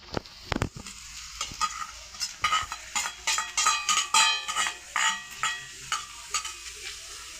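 Bitter gourd slices stir-fried with golden-browned onion in a pan, with a soft sizzle under a run of rhythmic scraping strokes from a spatula, close by with no talk.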